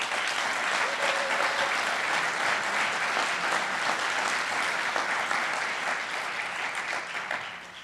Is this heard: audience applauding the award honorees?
yes